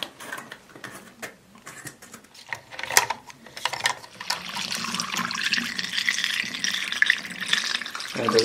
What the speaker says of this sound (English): Just pouring enough to cover the film.